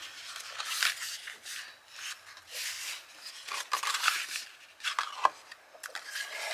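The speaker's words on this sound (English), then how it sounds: "Next we're going to fold our treat box" Paper rubs and creases as a cut Halloween treat box is folded by hand, soft scraping and crinkling strokes repeating unevenly at close range with no voices.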